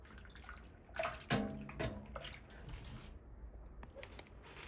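Salted napa cabbage is rinsed and sloshed in water, with splashing, squishing and dripping in a few bursts, close and moderately loud, no talk.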